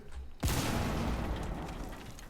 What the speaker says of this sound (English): Oh, he tossed a nade.